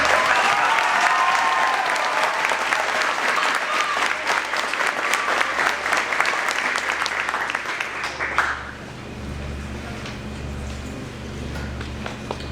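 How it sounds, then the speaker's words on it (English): Sustained audience applause at a Veterans Day program, loud dense clapping that fills the space for several seconds, then drops off abruptly, leaving quieter room noise and low hum. "Can we get a round of applause?"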